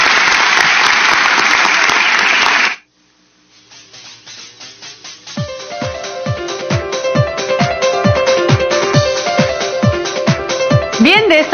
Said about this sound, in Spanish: un gran aplauso a todos ustedes por su presencia